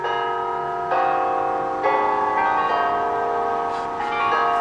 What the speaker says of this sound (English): So those church bells are pretty loud, but we'll try to film anyway.